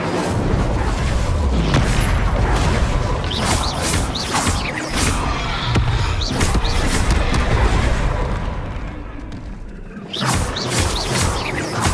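Confringo spells blast repeatedly in Hogwarts Legacy, giving loud, crashing booms with scattered whooshing bursts. The blasts pile onto a constant, thick battle din that dips briefly near the end before resuming.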